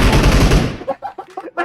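PUBG Mobile gunfire opens with a loud dense burst of rapid shots that rings out, then several separate sharp reports follow in quick succession, close and forceful.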